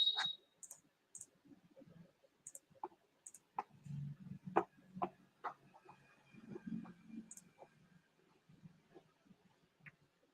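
A computer mouse gives scattered sharp clicks, quiet and close, some in quick pairs, with soft handling noises and low murmurs between them in an otherwise quiet room.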